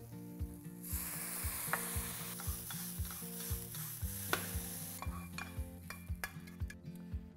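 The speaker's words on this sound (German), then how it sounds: "Jetzt Räuchertofu anbraten. Etwas Erdnussöl." Smoked tofu fries in peanut oil in a pan, a steady bright sizzle broken by repeated rhythmic scraping strokes of a utensil against the pan, close and clear with no talking.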